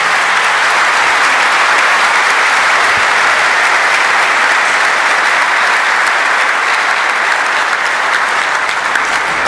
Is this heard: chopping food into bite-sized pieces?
no